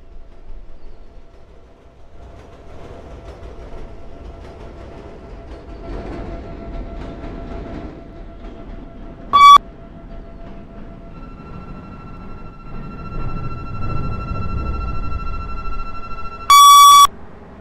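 A Chicago CTA Green Line train in the Roblox video game runs with a low rumbling drone and steady tonal hum. Two short, loud electronic door chimes sound partway through and again near the end.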